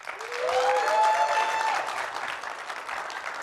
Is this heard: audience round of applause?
yes